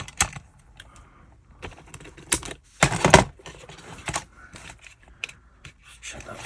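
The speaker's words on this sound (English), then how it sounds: "So let's just cut a piece off of here." Plastic glazing sheet being cut by hand for model railway coaches, giving a run of short, sharp snips and clicks, a dense burst in the middle, close and fairly quiet with no talk.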